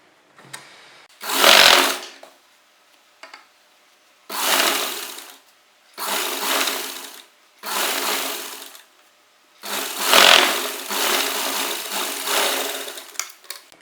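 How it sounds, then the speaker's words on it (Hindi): Sewing machine stitching the edge of an Afghani salwar, running in five short bursts of rapid whirring separated by brief pauses, the last burst longest, close and clear with no talk. "यहाँ किनारे सिलाई लगा लेंगे"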